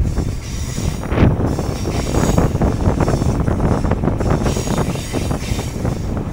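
A local train on the Howrah to Digha line running close by, with steady rumbling and rhythmic clatter of wheels on rails along with wind noise, and no talk.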